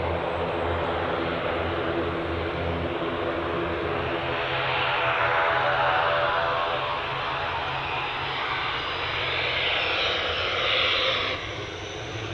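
An ATR turboprop returning to Dublin sweeps past with a loud, steady propeller drone and engine roar that swells and shifts in pitch as it turns, holding strong for about eleven seconds before easing.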